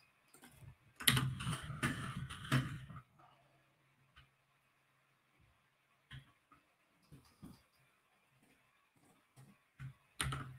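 Typing on a Bluetooth computer keyboard, a quick dense burst of key clicks early on, then scattered single taps and short clusters, close and fairly quiet, with no talk.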